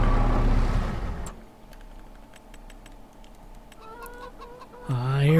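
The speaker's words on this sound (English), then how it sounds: "I hear them chickens quacking" Chickens in the Farming Simulator 25 video game cluck and squawk near a coop, with sharp repeated clicks in an uneven rhythm and a louder squawk at the end.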